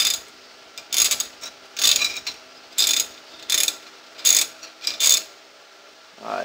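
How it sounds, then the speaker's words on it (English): Socket ratchet loosening a nut on a Jeep Cherokee KL during a lift install, a series of crisp clicking ratchet strokes in repeated short bursts, close and clear with pauses between. "I'm going to go with the socket. Ratchet, now that I got it loose."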